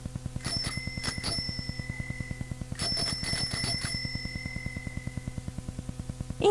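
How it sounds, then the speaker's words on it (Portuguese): A bell rings in two bright clusters of quick dings that linger and fade, standing out over a steady, low rhythmic mechanical hum running throughout, with no voices. "Era um sino tocando."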